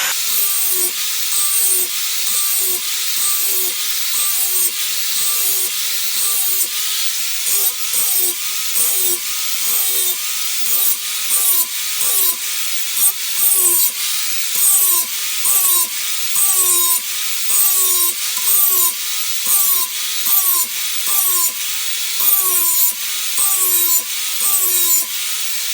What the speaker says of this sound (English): so just kind of keep going like that with the grinder, and everything should come out pretty good